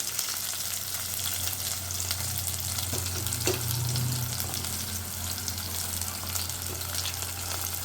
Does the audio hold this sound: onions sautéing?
yes